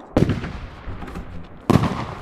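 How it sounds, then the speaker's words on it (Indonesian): A nail clipper cutting nails: two sharp, loud snaps about one and a half seconds apart, each a crisp crack like a small firecracker, with quiet rustling between. "Suara potong kuku kayak suara petasan."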